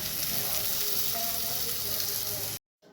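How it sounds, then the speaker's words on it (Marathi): Tempered pea rice sizzles and fries loudly in a pan, a dense close crackling hiss that holds steady for over two seconds and then cuts off abruptly into silence. "फटाफट फोडणीचा भात बनवते आहे"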